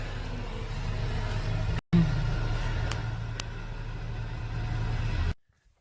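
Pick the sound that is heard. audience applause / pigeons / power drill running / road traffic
road traffic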